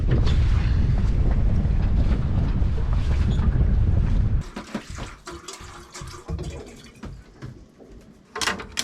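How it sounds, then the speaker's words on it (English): Strong wind roars across the microphone over sloshing, choppy wind-chop water at Isla Pelicanos, then drops away to lighter splashing and slapping waves. "this wind chop's really picked up"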